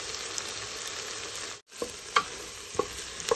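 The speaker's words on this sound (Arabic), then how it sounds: "وغادي نخلي الكل يتشحر مع بعض حتى يتشحروا مزيان" Vegetables and spices, including white pepper and ginger, sizzle steadily in a pan for a seafood and vegetable soup, with a brief dropout and a few clinks of stirring near the end.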